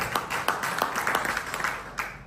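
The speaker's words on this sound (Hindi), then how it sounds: "जोरदार तालियां सर एक बार।" Applause from a seminar audience, a dense patter of many hands clapping with a few sharper accents, steady and moderately loud throughout.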